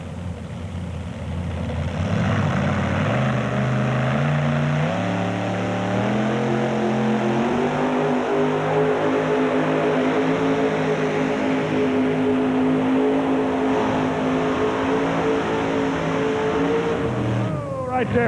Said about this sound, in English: comes Charlie Baldwin from Greenfield, Ohio, with a 1985 Ford. He's got the green light. He's revving her up. He's tightening the drawbar